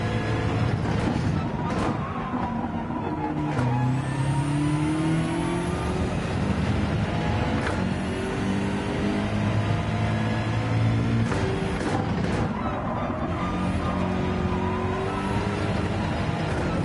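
BMW M6 race car engine in Gran Turismo 7, a loud continuous engine drone with repeated revving rises and falls and shifting pitch through gear changes, steady throughout.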